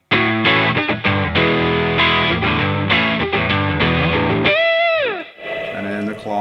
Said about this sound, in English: Tube Screamer.